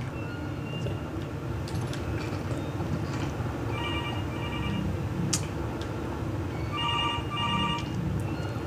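A telephone rings in the horror video game Infliction, sounding as two short clusters of trilling rings over a constant low, murky ambient drone.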